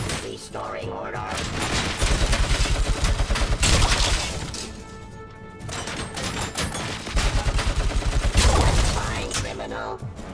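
Rapid machine gun fire from the video game Robocop Rogue City, with dense bursts of shots, impacts and shattering, loud and near, coming in two sustained waves, with voices partly mixed in.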